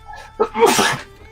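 A single sharp human sneeze during a tabletop role-playing game session, a quick intake followed by a loud burst at close range, with no other sound around it.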